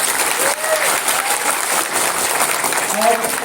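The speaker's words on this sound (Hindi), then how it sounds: "इसीलिए जोरदार ताली होनी चाहिए सबकी।" Loud, sustained audience applause fills a seminar hall at a town hall event, a dense wash of clapping from a large crowd with a few voices rising above it near the end.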